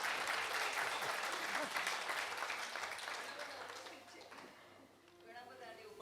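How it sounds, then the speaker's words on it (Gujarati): An audience at a Gujarati stage program on the poet Kalapi gives a teacher a hearty round of clapping. The applause is thick and continuous, then thins and fades toward the end. "એટલે આ સર માટે એક વખત જોરદાર તાળી."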